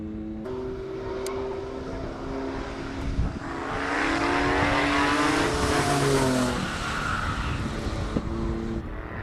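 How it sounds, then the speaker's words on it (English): A Mitsubishi Pajero races up a hill climb course below Table Mountain in Cape Town, its engine note rising and swelling as it approaches, then fading away, heard without any talk. "Here comes the Pajero."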